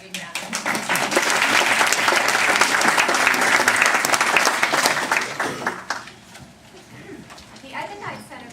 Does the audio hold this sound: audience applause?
yes